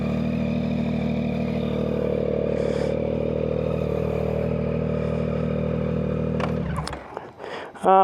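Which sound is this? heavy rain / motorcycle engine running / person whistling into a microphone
motorcycle engine running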